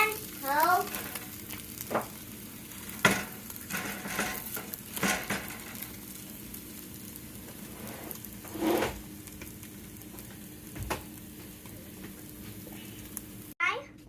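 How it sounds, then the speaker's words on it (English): French toast sizzles in a frying pan at home, a soft steady frying hiss with occasional clinks of utensils and pan, while people talk nearby. "now my mom is gonna flip the toast"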